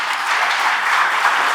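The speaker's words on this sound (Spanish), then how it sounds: "Dame un aplauso al Señor" A church congregation applauds during a sermon, a brief burst of dense, steady clapping from many hands with no voices over it.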